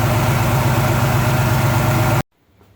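A Chevy 350 small-block V8 idles steadily while its lifters are adjusted with the engine running. The close, even rumble holds for about two seconds, then cuts off abruptly into near silence.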